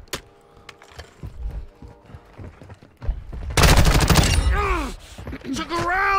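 Sparse scattered shots and game noises give way to a loud, close burst of rapid automatic gunfire in the DMZ video game, followed by whooshing, sweeping effects.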